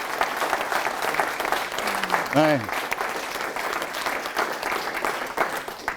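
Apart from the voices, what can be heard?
audience applauding the team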